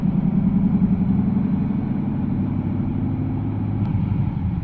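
An LS-swapped Chevrolet Colorado engine, rev-limited around 2,000 RPM, runs at a steady low rumble from start to finish, with no clear rise or cut in revs and no one talking.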